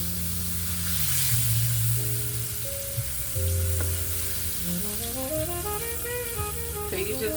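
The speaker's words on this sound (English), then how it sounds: "they're gonna stew in the pan, so you don't have to overcook them" Flour-dusted chicken sizzling in oil in a pan for lemon piccata, a steady close frying hiss running throughout, with soft background music tones over it.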